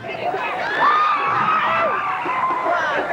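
A Halloween parade crowd in New York, packed ten people deep, cheers and whoops loudly and continuously, with a dense babble of voices and shouts underneath.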